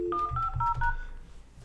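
Several touch-tone telephone dialing beeps sound in quick succession while calling extension 150 on a business phone system, close and clear, followed by a faint line hiss.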